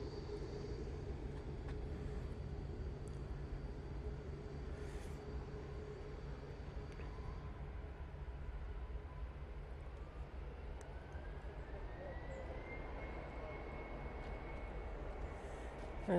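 A Ryanair airliner at Manchester Airport, a steady broad engine roar that holds at a constant level from a moderate distance, with a rising whine building over the last few seconds and no voices.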